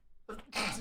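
A single short sneeze bursts out near the mic after a brief intake of breath, sharp and close.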